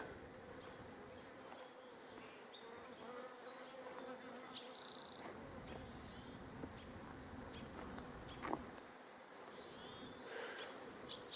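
A continuous, faint hum of many honeybees buzzing around hives, with individual bees droning past now and then, no talking.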